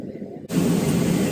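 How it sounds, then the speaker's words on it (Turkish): Inside an airplane cabin during the landing descent, a steady broadband roar of air and engines kicks in abruptly after a brief quieter moment and stays loud and close. "biraz uçağımız iniyor"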